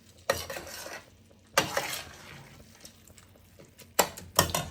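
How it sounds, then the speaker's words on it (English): Vegan risotto stirred in a pot on low heat: intermittent scraping strokes of a utensil against the pot, four distinct bursts with quiet simmering between. "I'm just going to keep adding the broth and keep stirring"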